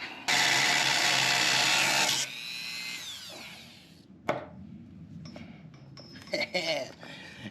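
Dremel rotary tool trimming a plastic part on a Baja Bug, a loud steady high-pitched whine for about two seconds that winds down, followed by scattered handling clatter and clicks.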